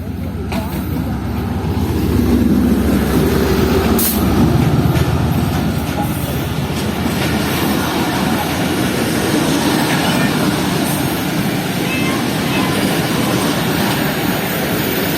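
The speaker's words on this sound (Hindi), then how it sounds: "इस वक्त मेरे सामने से आ रही है पेशावर और कराची के दरमियान चलने वाली 2 डाउन खैबर मेल" The 2 Down Khyber Mail between Peshawar and Karachi passing close by behind ZCU30 locomotive 6305, a loud, continuous rumble and clatter of wheels and carriages, with someone speaking over it.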